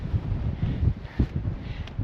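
Gusty wind of about 20-25 mph on Longs Peak in winter buffets the microphone in low, uneven rumbles, close and moderately loud, with no voices.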